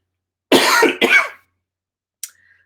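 Two sharp, loud coughs come close together at close range, followed after a pause by a brief faint throat sound.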